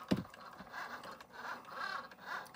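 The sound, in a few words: Cricut Joy machine with foil quill running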